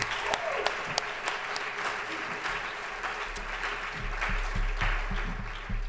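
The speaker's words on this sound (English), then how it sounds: "So if we can give one more round of applause to John Tucci." An audience at a school graduation event applauds steadily throughout, with some distinct sharper claps standing out and a low rumble of crowd noise beneath.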